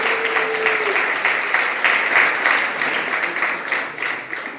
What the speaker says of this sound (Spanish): un aplauso para los que nos están viendo desde diferentes partes del mundo